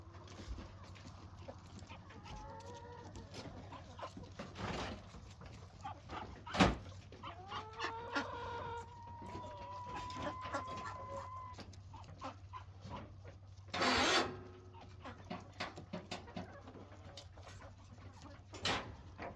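Chickens in a shed where their feed is kept, clucking and calling in short rising and falling phrases at moderate distance over a steady low hum, with occasional knocks and a brief burst of rustling.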